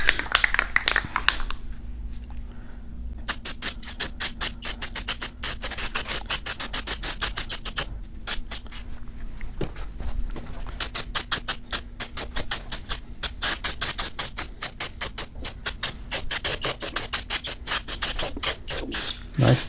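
Rust-Oleum truck bed coating is applied to a DIY removable bow hatch cover for a Grizzly jon boat. Fast, rhythmic rasping strokes repeat loudly and steadily, with brief pauses between passes.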